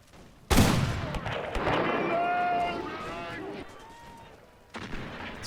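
Video game battle as Gordon's troops open fire in the Mahdist Rebellion, a sudden loud volley of massed gunfire with rolling crackle and tonal horn-like calls, followed by a second burst near the end.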